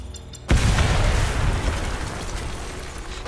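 A grenade blows up in the video game Selaco, a sudden loud boom that breaks out of quiet and leaves a long, dense rumble trailing off under steady background noise.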